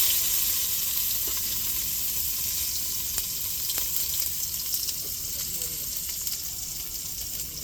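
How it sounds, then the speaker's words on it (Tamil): Onions fry in hot oil as the tempering for a coconut milk rasam, giving a steady close sizzle with faint stirring clinks and no talking. "இப்போ ரசத்துக்கு தாளிப்புக்கு வெங்காயம் சேர்த்துக்கணும்."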